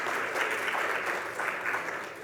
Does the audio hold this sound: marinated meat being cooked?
no